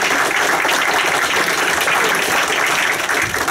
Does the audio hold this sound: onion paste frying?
no